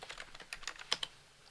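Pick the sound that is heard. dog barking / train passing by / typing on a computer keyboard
typing on a computer keyboard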